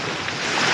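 Rough sea water surging at the shore, a brief close broadband wash mixed with wind noise on the microphone, loud and unbroken.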